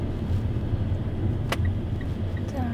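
A car driving along a village road in the Portuguese countryside, a steady low road rumble and engine hum from inside the vehicle, with a brief sharp click partway through.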